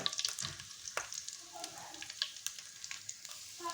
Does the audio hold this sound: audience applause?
no